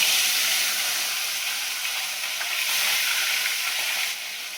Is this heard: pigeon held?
no